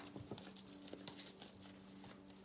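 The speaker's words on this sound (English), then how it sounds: "I'm just going to shuffle the cards a bit more here." A deck of tarot cards is shuffled in soft, quiet papery rustles and crinkles over a few seconds, ending with one sharper, louder flick.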